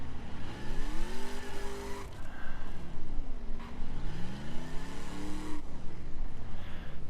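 A dune buggy in The Crew video game revs hard over steps, its engine pitch repeatedly rising and dropping in loud, continuous surges with occasional tire scrubbing.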